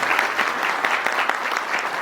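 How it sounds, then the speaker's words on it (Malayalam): Sustained applause from a seminar audience greeting a guest at a law award event, a dense even wash of many hands clapping steadily for about two seconds with no voices on top. "അത്യധികം സന്തോഷത്തോടു കൂടി നമുക്ക് അദ്ദേഹത്തെ ഒന്നുകൂടെ കൈയടിച്ച് സ്വാഗതം ചെയ്യാം."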